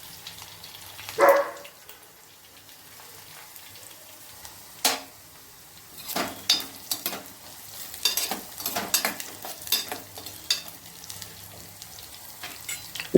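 Small onions dropped into hot oil for Andhra pappu charu, a low steady sizzle broken by several sharp stirring and clattering bursts, close and moderately loud, no voices.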